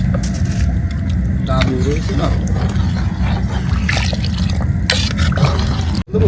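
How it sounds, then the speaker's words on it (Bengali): Boiled hot water poured into a pot of khichuri cooking outdoors in a village, a continuous close liquid gush and bubbling with a sharp knock near the end, voices talking over it. "এবার দিয়ে দেবো ফুটিয়ে রাখা গরম জল"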